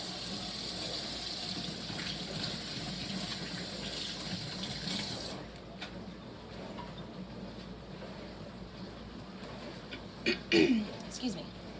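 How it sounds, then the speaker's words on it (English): Kitchen tap runs steadily while hands are rinsed under it during coffee cake baking, a close, even rush of water lasting about five seconds before shutting off, followed by quieter room noise and a brief clatter near the end. "Let me just give my hands a rinse."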